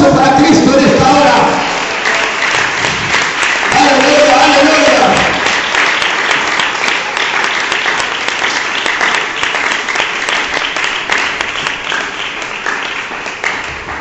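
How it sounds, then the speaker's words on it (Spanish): Church congregation applauding loudly and continuously, dense clapping that fills the room, with a preacher's voice and crowd voices over the start before the applause carries on alone and slowly eases. "Un aplauso para Cristo en esta hora."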